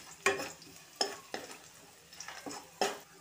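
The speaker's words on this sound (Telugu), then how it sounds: "ఈ జీడిపప్పును కూడా ఏపుకోవాలి।" Cashew nuts frying in a pan for mint rice, stirred with a spoon that scrapes and taps against the metal in a handful of sharp, close strokes over a soft sizzle.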